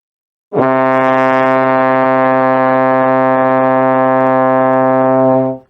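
A single sustained trombone note, C played in sixth position, held steady and full for about five seconds before fading out, with no other sounds.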